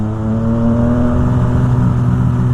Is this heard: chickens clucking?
no